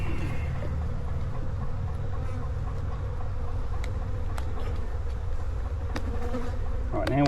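Honeybees swarming around an opened hive, a dense continuous buzz close by, with individual insects droning past now and then over a low rumbling background.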